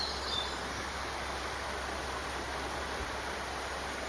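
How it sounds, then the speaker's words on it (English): A small waterfall beside the Offa's Dyke walking path in Wales, heard as a faint, steady broadband rush of falling water with no other clear sounds. "As you can hear, there is a lovely little waterfall behind me."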